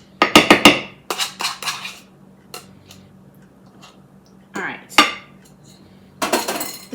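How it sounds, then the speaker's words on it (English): Ingredients mixed in a casserole baking dish for a creamy chicken casserole, with a utensil clinking and scraping against the dish in several short bursts separated by quiet pauses. "I'm just going to mix it all in my casserole dish here"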